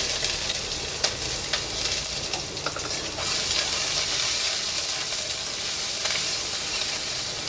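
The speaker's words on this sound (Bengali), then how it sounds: "কড়াতে দিয়ে দিয়েছি তেল, এটা অলমোস্ট গরম হয়ে গেছে। একটা পেঁয়াজ কুচি দিয়ে দিচ্ছি" Chopped onion sizzles steadily in hot oil in a kadai, a dense, continuous frying hiss with a few faint clinks and stirring scrapes over the full length, close and fairly loud.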